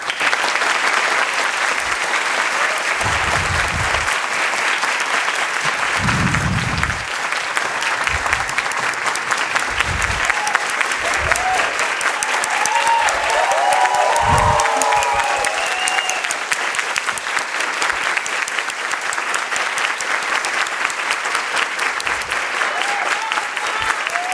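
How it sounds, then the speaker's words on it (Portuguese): Audience applause at a data journalism award ceremony, loud sustained clapping close by that runs steadily for the whole stretch, with a few brief voices and cheers surfacing partway through. "Então, Shirley, se puder ficar de pé para receber os nossos aplausos."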